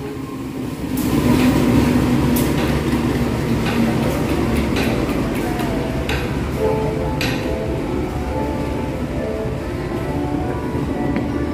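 Logawa passenger train pulling in at an Indonesian station, a continuous rumbling roll with rhythmic wheel clicks and occasional metallic knocks, fairly loud and close throughout.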